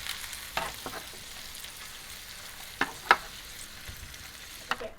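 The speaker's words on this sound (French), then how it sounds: "je fais tout simplement tourner au feu doux histoire de cuire un tout petit peu." Fish cooks gently over low heat in a pan, a quiet steady sizzle with a few soft clicks and scrapes from stirring.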